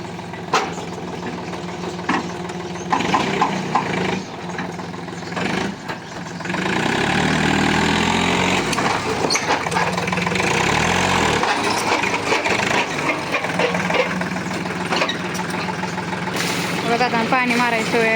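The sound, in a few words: tractor engine idling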